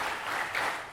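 An audience claps together in a call-and-response clapping game at a Halal bi halal gathering in Padang Sambian Klod, a brief dense burst of applause heard at moderate distance.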